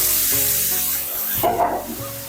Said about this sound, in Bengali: এবার আমি সর্ষে পোস্ত চাল মগজ বাটাটা দিয়ে দিচ্ছি